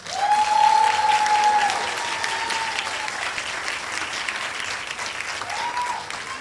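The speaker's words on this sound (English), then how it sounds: "Keep clapping, keep clapping." An audience at a senior awards ceremony applauds continuously, a dense wash of clapping with a few shrill whistles over the top.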